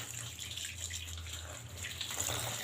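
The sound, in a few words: pouring cold water over boiled macaroni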